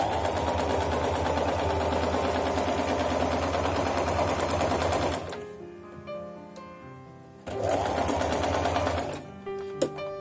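A Singer Promise sewing machine runs loud and close in a long continuous stitching burst, stops briefly with light clicks, then starts stitching again.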